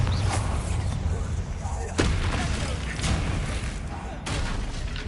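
In Hogwarts Legacy, Bombarda blasting spell explosions sound as several sharp booms at roughly one-second intervals over a constant rumbling game background.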